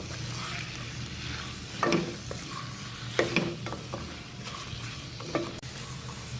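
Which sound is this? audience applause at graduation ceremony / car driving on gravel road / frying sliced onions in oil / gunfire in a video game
frying sliced onions in oil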